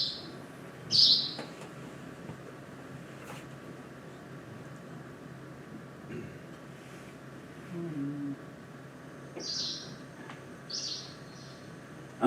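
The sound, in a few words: recording of two-barred warbler call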